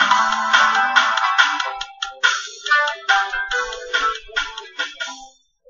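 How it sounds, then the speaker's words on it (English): Music with a bright, ringing melodic texture fading out after an Audacity fade-out effect, starting at full level and growing steadily sparser and quieter in short choppy bursts until it dies away to silence. "It just happens to fade out fairly nicely."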